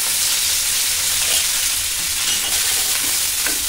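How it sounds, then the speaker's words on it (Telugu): Tempering for an ivy gourd and tomato chutney: mustard seeds, cumin, dried red chillies, curry leaves and turmeric frying in hot oil, a steady loud close sizzle and crackle throughout with no talking. "పచ్చడిలోకి పోపు పెట్టుకోవడానికి ఆయిల్ వేడి చేసి అందులో ఆవాలు, జీలకర్ర, ఎండుమిరపకాయలు,"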